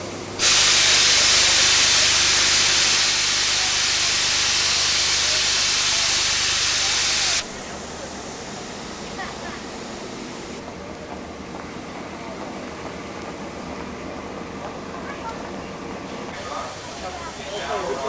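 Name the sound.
Flying Scotsman steam locomotive hissing steam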